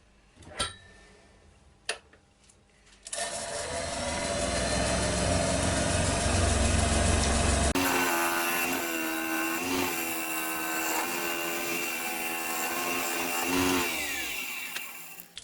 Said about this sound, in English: It just needs a little skim with the scraper, that's all I'm giving it, nothing special.